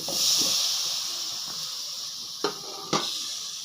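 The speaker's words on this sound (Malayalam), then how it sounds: "നമുക്കിനി ഇതിനകത്തേക്ക് തക്കാളി ഇട്ട് കൊടുക്കാം." Tomatoes dropped into sizzling masala in a pan for a Kerala-style crab roast, a loud, steady hiss of frying oil with two sharp utensil knocks toward the end.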